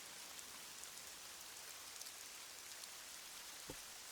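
Steady rain falls in a film scene, a soft, even hiss of drops that continues unchanged, with one brief low thud near the end.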